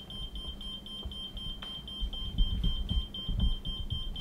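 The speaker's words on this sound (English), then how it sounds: "It's basically a proximity alarm if anything breaks the field around it." A proximity alarm in the Iron Island Museum emits a steady high-pitched electronic tone with faint repeated beeps, continuous and fairly quiet under low background rumble.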